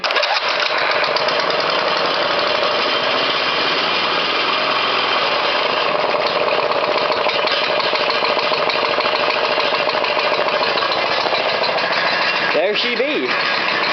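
A Briggs and Stratton small engine cold-starting and then running steadily, a loud continuous buzzing drone that holds throughout, with a brief spoken remark near the start.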